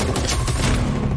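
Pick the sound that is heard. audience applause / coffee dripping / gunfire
gunfire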